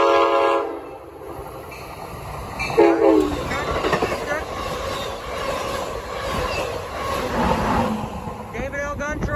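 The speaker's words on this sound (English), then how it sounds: "here's Amtrak 672 Metroliner in the front." Amtrak 672, a Metroliner consist, passes close by with a loud, sustained roar of wheels and cars, horn blasts and squealing wheels, all filling the scene without a break.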